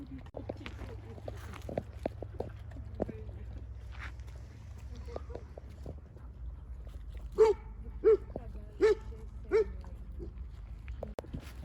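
Dogs at a feeding spot for about 150 dogs let out four clear barks in a row near the end, loud and close, after a stretch of busy outdoor noise and people talking.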